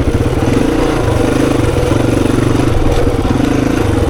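A 26-year-old XR400 dirt bike engine pulls in first gear on a hard enduro singletrack loop, giving a loud, close, steady thumping drone with a fast, even pulse throughout and no talk.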